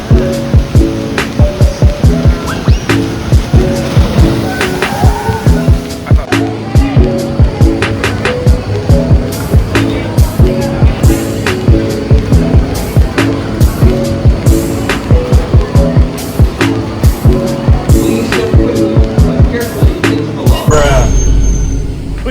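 Log flume ride on Dudley Do-Right's Ripsaw Falls at Islands of Adventure, with a loud, continuous rumble of rushing water and rattling boat clatter, sharp knocks throughout and a final heavy splash, voices faintly underneath.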